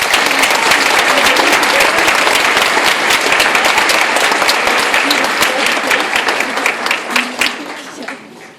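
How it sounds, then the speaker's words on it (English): Elementary school audience applauding student council officers, loud steady clapping from a full room that tapers off near the end. "Let's give them another round of applause."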